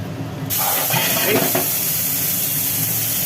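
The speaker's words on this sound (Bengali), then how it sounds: "তেলের ওপরে পড়লো হালকা পাঁচ ফোড়ন" Panch phoron spices hit hot oil with an abrupt, loud sizzle that stays as a dense, steady hiss, with a few crackles just after the spices land.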